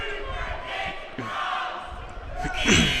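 Basketball crowd at a junior college game fills the air during a free throw, a dense wash of shouting and jeering voices that swells loudest near the end.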